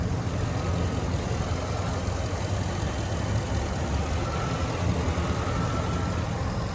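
A 2015 Ford F-250 Super Duty with a 6.2 liter V8 idles steadily, a close, even engine rumble with no change in pace throughout.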